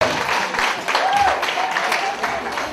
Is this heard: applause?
yes